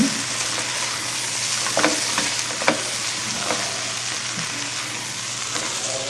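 Rinsed canned beans stirred in a sizzling pan for a Cuban dish, with a steady frying hiss under occasional soft spoon scrapes and clicks.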